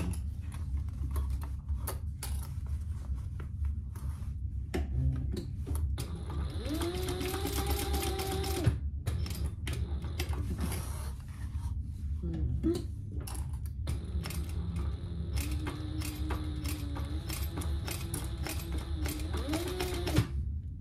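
A sewing machine stitches a seam on a fabric bag in long continuous runs with brief pauses, its steady mechanical whir and rapid needle ticking loud and close throughout, with no talk.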